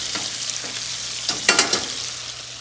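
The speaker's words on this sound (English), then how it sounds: "We're going to flip them, add a little bit of butter, and just baste to finish." Scallops sear in a hot pan as butter is spooned over them to baste, giving a steady close sizzle with a few brighter spattering bursts midway.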